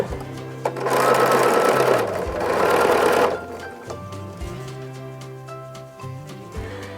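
Sewing machine chain piecing quilt units of white batik fabric, a loud steady mechanical whir in two long bursts with a brief pause between, then stopping with quieter handling noise and low hum.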